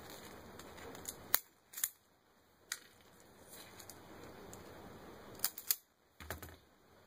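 Wire cut while assembling a 72V e-bike battery pack with DeWalt 20V lithium cells: several sharp, close snips and clicks of a cutting tool scattered over quiet background.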